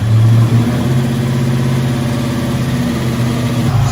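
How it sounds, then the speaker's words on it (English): A Toyota Land Cruiser engine cranks and settles into a loud, close idle with a steady low rumble. It holds a strong, even pitch, with a slight rise at the start and end. "We'll crank up the motor, we'll see that warm up."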